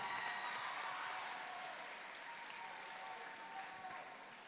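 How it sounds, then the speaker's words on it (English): Audience applause fills a student talent show hall, a dense, steady wash of many hands clapping that gradually eases off over several seconds. "A round of applause for Star White, everybody."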